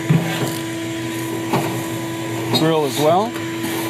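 A shop vac cleans out the inside of a Traeger pellet grill, a steady droning whine with occasional rattling knocks as the nozzle moves about, running continuously under a man's close speech.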